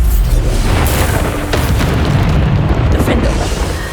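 Loud booming blasts of the Bombarda spell in Hogwarts Legacy on PS5, a heavy rumbling explosion filling the whole stretch amid constant combat noise, with a voice calling out spell names over it.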